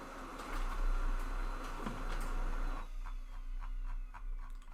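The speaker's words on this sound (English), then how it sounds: "Sorry guys, printer's acting crazy." A malfunctioning printer whirs and buzzes loudly, then drops to a quieter steady hum with a thin tone and scattered light clicks.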